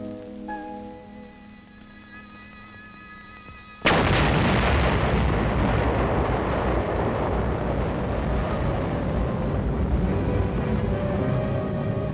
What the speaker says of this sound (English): A nitrate factory smokestack is blown up by an engineer demolition team